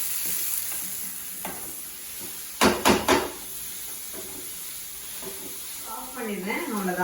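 Curry leaves sizzle in a pan of soya pea masala as it is stirred, a steady frying hiss with a short burst of three loud crackling spits midway and clattering stirring toward the end.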